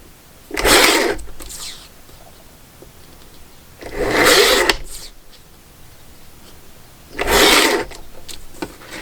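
Cutterpillar tool scoring paper strips, pushed back and forth in three separate rasping strokes with quiet gaps between them, close and moderately loud.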